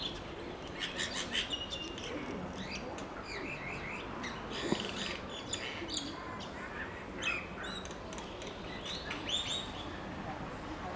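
Parakeets in Israel calling in a lively outdoor scene, with bursts of bright chirps and squawks scattered throughout at moderate distance over a steady background hum, with no one speaking.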